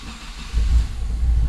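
A fully built Mitsubishi 3000GT, prone to warm-start trouble, cranks and fires up partway through, its engine settling into a deep, close, rumbling idle with slight unevenness.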